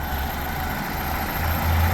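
A 2004 Daewoo Lanos with a 1.5 engine, LPG system and air conditioning running sits idling, a steady low engine hum throughout with no pauses or revving, heard close and alone without speech.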